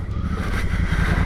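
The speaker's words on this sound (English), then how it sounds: "have a great ride every time with this great bike, the Honda Africa Twin" A 2016–2019 Honda Africa Twin Adventure Sports motorcycle is ridden, its engine a loud, steady, close drone with heavy wind rush over it.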